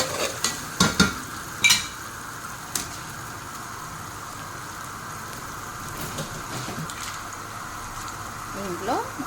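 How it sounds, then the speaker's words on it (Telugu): Onion with ginger garlic paste fries in a pan with a steady low sizzle, a few loud spoon knocks and scrapes early on, then quieter stirring; a voice talks faintly at times. "ఇప్పుడు కొద్దిగా అల్లం వెల్లుల్లి పేస్ట్ వేస్తున్నాము దీన్ని కూడా బాగా ఫ్రై చేసుకోవాలి"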